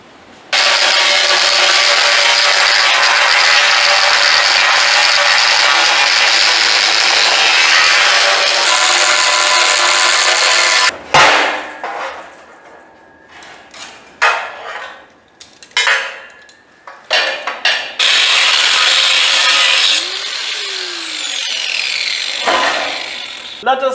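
A power tool cuts a part for a homemade trailer frame, a loud steady roar lasting about ten seconds, then stopping and giving way to scattered clanks, scrapes and handling noises up close.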